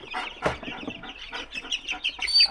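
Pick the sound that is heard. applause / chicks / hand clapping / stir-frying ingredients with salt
chicks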